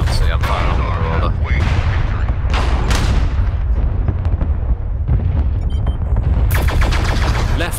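Video game mech combat, with weapons firing on a Marauder mech: loud, continuous heavy gunfire and explosive booms layered throughout, with sharp bursts standing out near the end.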